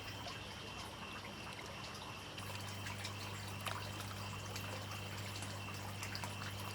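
A small waterfall inside an indoor paludarium vivarium trickles steadily, a soft continuous splashing wash under a constant low electrical hum, with no voices.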